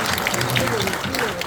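Crowd applause for the mayor at a Buddhist memorial rite for National Master Beomil at Gulsansa temple site in Gangneung, a steady wash of clapping mixed with a speaking voice over it throughout.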